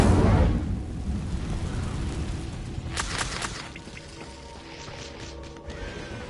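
An Incendio fire spell goes off in the video game Hogwarts Legacy: a roaring, crackling burst at the start fades into a steady rushing fire sound, with brighter magical flickers partway through and low ambient game noise.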